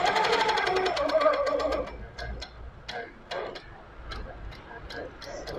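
A longarm quilting machine stitches feathers, with a fast, steady mechanical ticking that loosens into sparser, irregular clicks as it slows, heard up close with a voice talking partway through.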